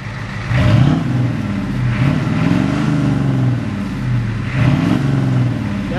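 A 6.9-litre diesel engine revs up and settles in repeated swells, three distinct rises in pitch over a steady loud idle, close by with no talking.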